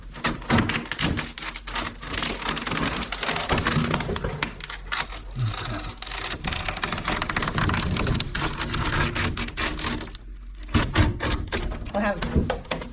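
Laminate vinyl tile being cut under cabinetry, a steady dense scraping and crackling cutting noise that runs almost without pause, close and loud.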